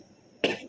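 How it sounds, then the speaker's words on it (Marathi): A single sharp cough bursts out after a moment of near silence indoors by a window, short and close, fading quickly. "मला खोकला आला"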